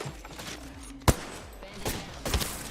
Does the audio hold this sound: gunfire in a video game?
yes